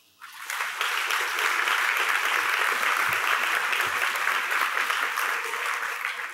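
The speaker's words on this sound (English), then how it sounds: "Please join me in a big round of applause for every one of the writers in this excellent group" Audience applause at the 2012 USC Libraries Scripter Award ceremony, swelling quickly into dense, sustained clapping from a large crowd that holds steady before tapering at the end.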